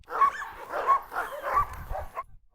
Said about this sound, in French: Quand on sort un chien de la cage, tous aboient en même temps.